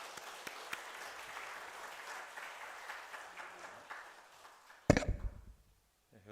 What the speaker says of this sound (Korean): 박수로 영광 돌리도록 하겠습니다.